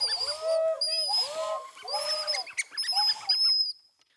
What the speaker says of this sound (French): D'oiseaux.